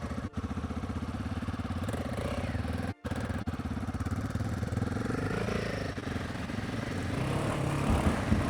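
A custom Royal Enfield Himalayan 450 motorcycle being ridden, its engine a steady, close, rumbling drone that holds throughout, with a brief dip near the middle and a slight rise toward the end.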